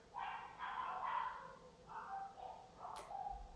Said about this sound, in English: that's Pippa barking